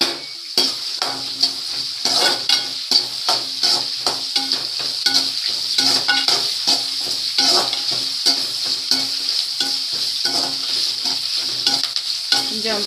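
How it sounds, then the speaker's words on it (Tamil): Green chillies sautéing on a low simmer in a pan, a constant bright sizzle with quick regular scraping strokes of a stirring spoon, close up and continuous without speech. "கொஞ்சம் பச்சை மிளகாய் நல்லா வணங்குற வரையும் கொஞ்சம் சிம்மில் வச்சு வதக்கிக்கோங்க"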